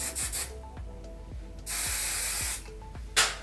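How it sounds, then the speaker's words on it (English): Hairspray hisses from an aerosol can onto a raw-hair curled HD wig in repeated bursts, one long steady spray in the middle and a short sharp one at the end, mixed with soft rubbing and handling noises between sprays. "Don't be scared to put that hairspray"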